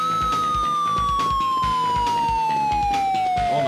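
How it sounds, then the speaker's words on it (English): A police siren wails steadily in the Road Rash motorcycle racing video game on the 3DO, loud and up front, with a gliding tone over game music and effects. "that police siren is loud"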